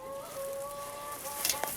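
Chickens near a chicken house give a short, faint call with a clear tonal line, over a soft outdoor background, with a couple of brief higher chirps near the end.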